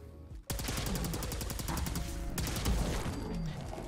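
Handmade energy weapon from Fallout 4 firing on full auto: a quick, steady stream of loud, close shots after a brief silent gap, with one harder burst midway and no talking.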